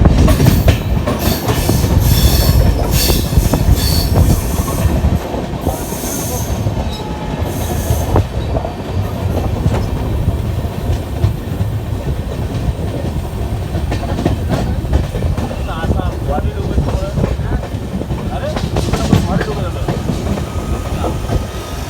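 Train wheels rumble and clatter over rail joints aboard the Kamrup Express near New Bongaigaon, a loud steady onboard roar with rhythmic clickety-clack and occasional squeals throughout.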